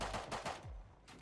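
Rapid bursts of automatic gunfire in a shooter video game, several sharp close volleys in quick succession with a short pause before a final burst, no talking over it.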